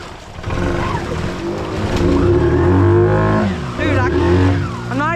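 An off-road motorbike revs in deep, muddy duck-pond water, a loud close engine drone rising and falling with throttle blips, while a rider talks over it.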